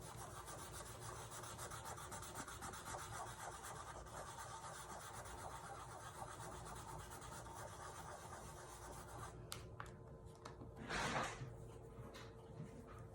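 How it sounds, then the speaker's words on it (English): Steady soft rubbing of a baby wipe across wet paint on a laser-cut wooden sign, continuous and close, with a brief louder scuff near the end. "Just rubbing from the center, leaving it painted on the sides."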